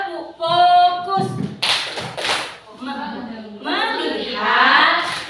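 Children in a combined-grade classroom perform the tepuk fokus clapping routine, sharp bursts of claps mixed with a teacher's and children's chanting voices in a rhythmic call-and-response.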